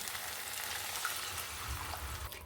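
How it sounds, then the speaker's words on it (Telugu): Frying egg curry in a pan keeps up a steady broadband sizzle, with water added for the gravy, and a low, continuous bubbling hiss runs through with no talking. "ఇప్పుడు మనం గ్రేవీకి సరిపడినన్ని నీళ్ళని వేసుకుందాం"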